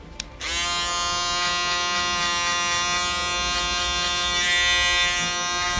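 An electric foil shaver runs close up while finishing a low fade haircut, a steady high-pitched motor buzz that starts abruptly and holds evenly throughout.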